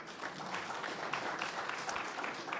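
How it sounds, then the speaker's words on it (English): Audience applause at a petroleum policy consultation meeting in Rundu, a soft, fairly distant patter of clapping from a room of people, steady and without voices over it. "move a round of applause again for her."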